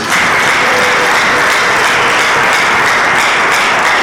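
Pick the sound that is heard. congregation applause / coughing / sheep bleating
congregation applause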